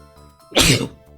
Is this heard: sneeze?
yes